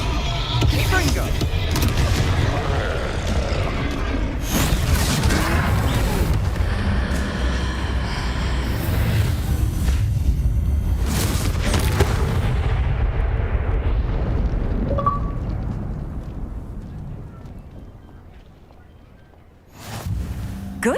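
A Confringo spell explodes in the Hogwarts Legacy video game during a troll fight, a loud booming blast with rumbling debris and crackling game effects that fade into quiet before a final sharp burst.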